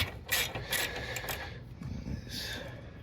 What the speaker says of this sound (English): This bolt is coming out as if it's bent, but I think that's where my socket is on it.